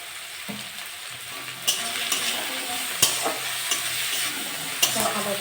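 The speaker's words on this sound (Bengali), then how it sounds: "ভালো করে ভাজবো।" Onions frying with prawns in a pan, seasoned with turmeric and salt: a steady hiss of frying with sharp spatula scrapes and stirring clinks every second or so, close and fairly loud, no voices.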